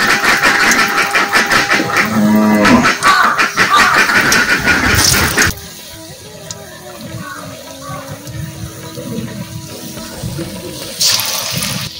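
Batter-coated banana flower (mochar) chops sizzle in hot oil with a loud, dense crackling hiss. Midway it drops to a softer, steady bubbling, then swells briefly again near the end.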